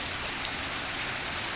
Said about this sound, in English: So a lot of rain in a short period of time.